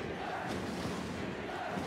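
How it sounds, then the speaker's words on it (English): A basketball arena crowd at a quarter-final game chants loudly for defense as a dense, continuous mass of voices for a couple of seconds. "Crowd calls for defense."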